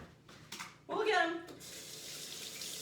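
A kitchen tap runs while something is rinsed off during banana pancake prep, a short burst of splashing water followed by a steadier, fainter flow.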